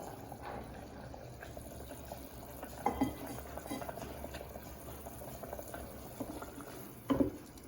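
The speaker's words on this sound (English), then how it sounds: "I pour in the boiling water." Bubbling, churning liquid noise runs throughout, with a couple of louder splashy bursts, as about three cups of boiling water are poured into a pot of goat meat curry.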